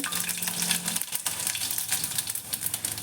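Cumin and garlic hit hot oil in a steel kadhai, a close, loud burst of crackling sizzle that carries on steadily as bright spattering, with no talk.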